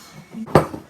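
A spoon knocks once against the side of a bowl while cookie dough is mixed, giving a single sharp clink with a faint scrape before it.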